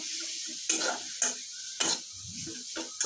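A spoon scrapes and stirs ginger paste and turmeric powder in a hot pan, with sharp intermittent scraping strokes over a soft, low sizzle; no talking.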